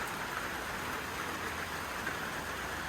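Steady rain falling outdoors in a Black Sea mountain village, a dense, even hiss of drops on surfaces throughout, moderately loud and without voices.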